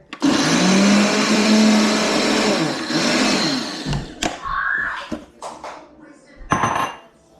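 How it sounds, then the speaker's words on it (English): A blender bottle whirs loudly for about four seconds, then stops, followed by clattering and knocking of containers and utensils. "It's easier with the blender bottle versus like the whole blender."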